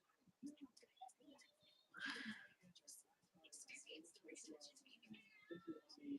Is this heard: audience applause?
no